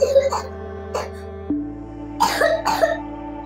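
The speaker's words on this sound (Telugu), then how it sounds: "చూస్తున్నారా ఎలా దగ్గుతుంది" A person coughs in a few short, rough bursts close by, with faint background voices and a steady low hum underneath.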